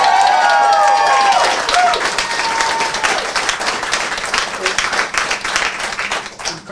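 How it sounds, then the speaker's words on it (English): Audience applause at a Democratic Party Town Meeting Day gathering after city council results, a dense, steady round of clapping that starts loud and gradually thins toward the end, with some cheering voices mixed in. "Let's give a round of applause for Jeff Hand."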